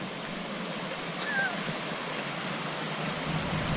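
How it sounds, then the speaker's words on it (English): A waterfall in Puerto Rico on a quiet, cloudy day gives off a steady, even rush of falling water that fills the scene without pause. "There's the waterfall."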